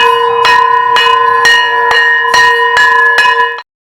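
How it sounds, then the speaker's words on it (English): A metallic school bell rings in rapid repeated strikes, about eight clangs under two per second, loud and close with a bright sustained tone, then stops abruptly. "Are you ringing your school bells like this?"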